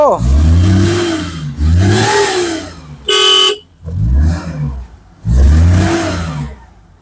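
A motorcycle engine starts and revs in several loud bursts, rising and falling, with a short horn toot in the middle and close speech alongside.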